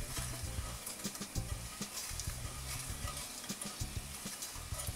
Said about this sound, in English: So I am frying that first in some oil. In this case, I'm using sunflower oil.